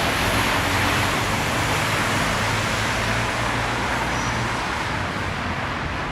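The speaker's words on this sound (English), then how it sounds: "And the buses are running." Buses and road traffic on a Fukuoka street make a dense, steady roar and hiss of passing vehicles, loud and continuous for the whole stretch with no voices.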